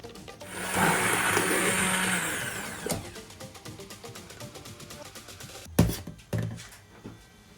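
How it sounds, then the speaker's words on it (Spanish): Kitchen blender whirring loudly as it purées food for batch-cooked meal prep, a steady broadband roar for about three seconds that then winds down, followed by quieter kitchen clatter and a few sharp knocks. "Y le voy a licuar otra vez."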